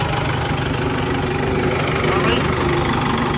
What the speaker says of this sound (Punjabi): ਆਹ ਟਰੈਕਟਰ ਜਾ ਰਿਹਾ